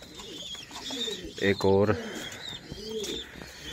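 Pigeons eating grain coo in a deep, throaty burst, with softer calls and chirps around it in a foggy outdoor setting while someone speaks briefly nearby.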